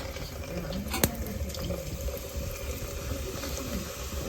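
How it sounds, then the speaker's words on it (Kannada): Gulab jamun fry in oil for a homemade sweet, a continuous soft bubbling sizzle heard up close, with a brief clink near the start and no talking. "ಇಲ್ಲಿ ಗುಲಾಬ್ ಜಾಮ್ನ ಕರಿತಾ ಇದೆ"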